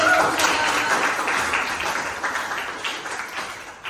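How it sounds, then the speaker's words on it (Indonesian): Classroom of pupils applauding a teacher, a busy wash of many hands clapping nearby that slowly thins out, with some voices mingled in. "Tepuk tangan Kak Eza"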